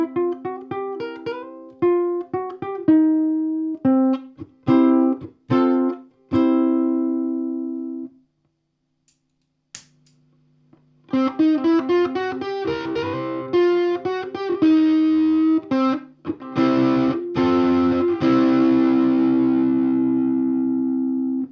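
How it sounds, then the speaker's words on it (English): Ukulele played through a cheap green Twin Note Tube Overdrive pedal, first a run of short plucked chords and single notes, then a pause, then a busier strummed passage with a gritty overdriven tone and fuller sustain, played alone. "let's hear this green Tube Overdrive"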